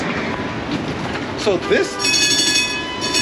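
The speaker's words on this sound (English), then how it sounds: "streetcar here is actually going to Loyola" A New Orleans streetcar on Canal Street passes close by with a steady rolling rumble of wheels on rails and brief high squeals. A voice speaks briefly at the start.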